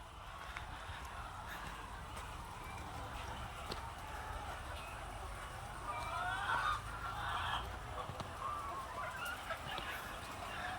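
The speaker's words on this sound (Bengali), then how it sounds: "এই মুরগিগুলি চাষ করা হয় সাধারণত ডিম পাড়ার জন্য।" A flock of laying hens on a farm clucking and murmuring continuously, fairly faint, with occasional louder clucks rising from the steady farmyard din.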